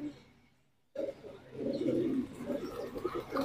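Pigeons coo inside a large loft of colourful breeding pigeons, a soft, steady murmur of overlapping calls rising after a near-silent first second and continuing close by.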